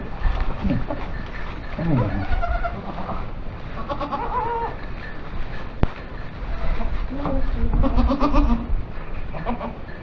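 Goats on a farm in Portugal bleat repeatedly, several wavering calls from different animals at close to middle distance, against a steady outdoor background with one sharp knock partway through.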